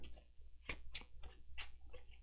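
Cards from the Etherfields board game are shuffled at a table, giving quiet, crisp riffling bursts that come in short, evenly spaced pulses, close by and alone.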